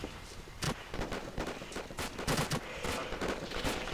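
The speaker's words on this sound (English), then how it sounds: "We're taking fire from the left flank." Dense bursts of gunfire and fusillade in the military game ARMA 2, incoming from the left flank, with repeated sharp shots and rattling volleys packed closely together across the whole stretch, loud and continuous.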